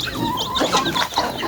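Native chickens clucking close by, a busy overlapping chatter of short calls and squawks from several birds moving loose in a yard.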